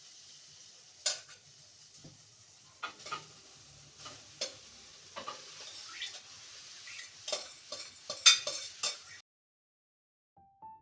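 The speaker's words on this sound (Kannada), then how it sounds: "ಇವಾಗ ಇದು ಫ್ರೈ ಆಗಿದೆ ತರಕಾರಿ. ಇದಕ್ಕೆ ರೈಸ್ ಬೆರೆಸ್ಕೊಳ್ತೀನಿ ಇವಾಗ." Rice stirred into fried vegetables in a pan for egg fried rice: a spoon scrapes and clinks against the pan in irregular strokes over a light sizzle, close and fairly quiet, before the sound drops out near the end.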